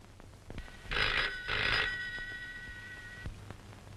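A telephone rings in two short bursts of an electronic bell tone, loud and close, followed by a faint lingering tone and quiet room noise.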